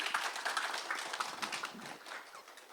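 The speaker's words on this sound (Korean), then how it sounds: "박수로 맞이해 주십시오." An audience claps to welcome a speaker at a Seoul Medical Association medical humanities lecture. The applause is a soft, distant patter of many hands, faint and diffuse, continuing steadily without voices.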